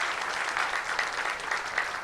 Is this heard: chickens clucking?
no